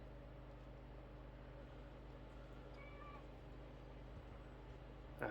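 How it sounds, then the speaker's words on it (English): Pet cat Reggie gives one short, soft meow midway through, faint against a quiet, steady background hum. "there's a little cute meow from Reggie then"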